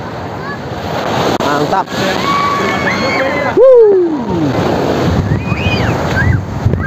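Ocean surf rushes at Sadranan beach under steady wind buffeting the microphone, with people talking and calling out nearby over the continuous wash of the waves.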